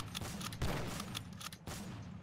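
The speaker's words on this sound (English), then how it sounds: "I hear a ray gun" Repeated ray gun blasts in a Minecraft Call of Duty game, a rapid series of loud bursts with a heavier boom partway through, close and continuous with no talk.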